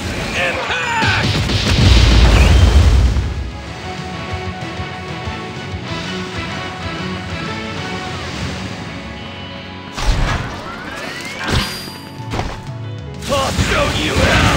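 Explosion attacks from the My Hero Academia: The Strongest Hero video game hit in heavy booming blasts and crashes, one large burst near the start and sharper impacts later, with game voices shouting over the combat.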